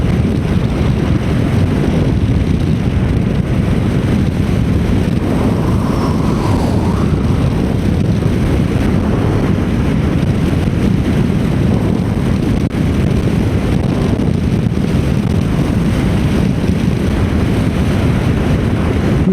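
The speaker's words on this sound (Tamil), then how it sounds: "காற்று பலமாக அடிக்குதுங்க, வண்டியை தள்ளுது." Strong wind roars and buffets against the microphone on a motorcycle ride, pushing the bike, in a continuous low rumble with road noise underneath and no talking.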